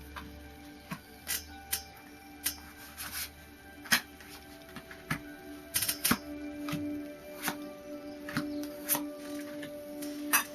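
Tarot cards are laid out one by one on a table, each placement giving a light tap or slap, irregularly spaced over about ten seconds against a steady low hum, with no talking.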